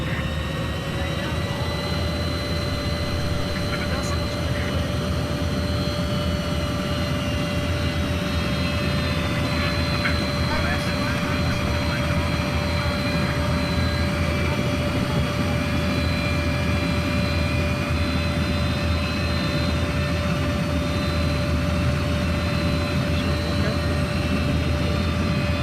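Inside a helicopter in flight during a military operation, a loud, continuous engine and rotor drone with a steady whine holds unchanged throughout, with voices talking now and then over the noise.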